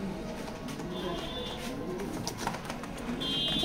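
Checker pigeons in a pigeon loft coo softly amid a background hum, with two brief high electronic tones and a few clicks, while someone speaks intermittently nearby.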